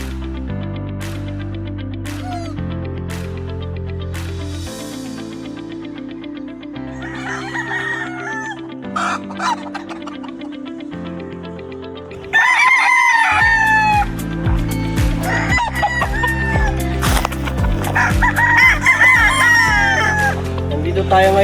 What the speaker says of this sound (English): This is the hardening and courting area for newly harvested stags.